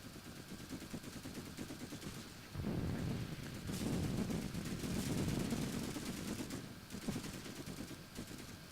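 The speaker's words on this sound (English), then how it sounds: "Being shot at." Gunfire in the video game The Mean Greens Plastic Warfare: rapid, continuous bursts of shooting that swell louder in the middle and then ease off, quiet and steady throughout with no talking.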